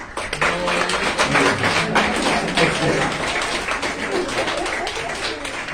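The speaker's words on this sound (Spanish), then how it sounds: "¿Le damos un aplauso a los papás, mamás?" Congregation applauding the parents at a Father's Day church gathering: a sustained wash of many hands clapping at even loudness throughout, with some voices under it.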